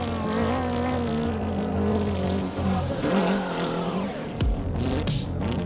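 Engine of a vehicle numbered 186 climbs a dry, rocky dirt hill at an extreme enduro, revving hard with wavering pitch as traction slips, then a sharp drop and scrabbling bursts near the end.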